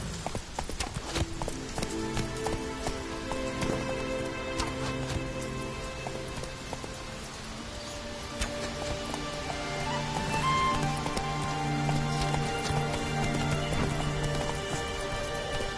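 Steady hoofbeats from Roach, Geralt's horse in The Witcher 3: Wild Hunt, clop along at a moderate pace over a soft patter like rain, mid-distance and fairly even throughout.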